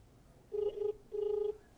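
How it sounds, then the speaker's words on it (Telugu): Two steady electronic ringback tones, each under half a second, sound quietly on a phone line with a short pause between them. "ఫోన్ రింగ్ అవుతుంది"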